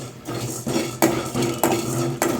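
Whole black pepper, fennel and cumin seeds dry-roasting in a pan for pepper chicken, heard as steady stirring scrapes and clinks of a utensil against the metal, close and fairly loud with periodic knocks.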